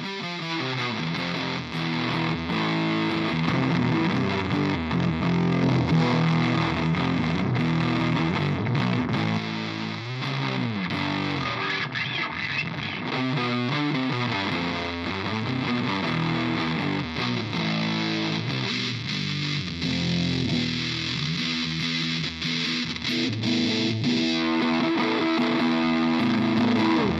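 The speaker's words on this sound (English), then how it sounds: "this has much more of a kind of raspy, aggressive kind of distortion to it." An electric guitar played through an op amp distortion pedal gives a loud, raspy, aggressive tone, with continuous strummed chords and riffs that run unbroken for the whole stretch without talk.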